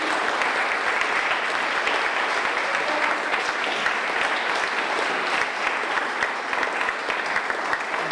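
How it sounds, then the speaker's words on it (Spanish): Sustained applause from an audience at a talk with a former Costa Rican foreign minister, a dense steady roar of clapping holding at even loudness throughout. "vamos a darle un gran aplauso a Don Bernd Haus."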